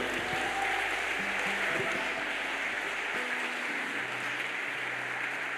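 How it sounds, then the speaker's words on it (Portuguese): A church congregation applauds together during a worship service, a steady broad wash of clapping that fills the space with no pauses, with faint tonal music or voices beneath it. "Você pode aplaudir o Senhor, meu irmão."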